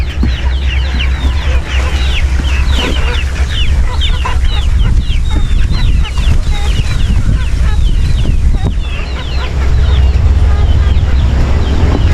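A flock of chickens clucking and chattering continuously close by, many overlapping calls over a low rumbling background.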